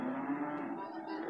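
Javanese cattle at a livestock market give a sustained, close mooing call lasting over a second, heard clearly with no talk.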